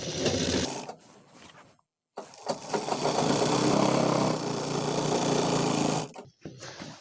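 A sewing machine stitches pant fabric in a fast, dense whir for several seconds, preceded and followed by short bursts of running and pauses, close and clear.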